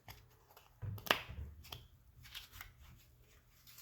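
Playing cards shuffled by hand the old-fashioned way, a quick riffle burst near the start followed by softer shuffling and tapping, close and quiet with no talk.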